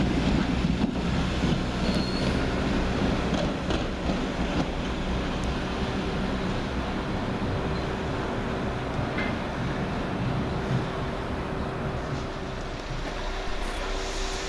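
A diesel passenger train pulls out of Stourbridge Junction station on the service to Stourbridge Town, with a steady low rumble, wheel noise and faint squeal as it moves off, close and continuous.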